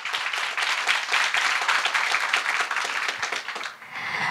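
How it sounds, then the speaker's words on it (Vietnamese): A conference audience at a startup event applauds throughout, a dense steady wash of many hands clapping that fades slightly near the end. "Chúng ta hãy dành một tràng vỗ tay thật lớn để khởi động không khí ngày hôm nay được không ạ?"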